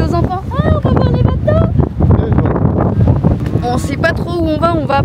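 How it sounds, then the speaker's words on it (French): Strong gusty wind in Croatia buffets the microphone with a loud, steady roar while people talk underneath it. "Mais c'est qu'on a un petit vent."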